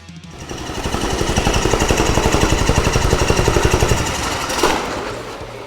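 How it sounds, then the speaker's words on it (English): A Milwaukee MX Fuel plate compactor thumps rapidly and rhythmically on concrete with a loud engine drone, a steady pounding that runs throughout before easing off. "this is the new MX Fuel compactor plate"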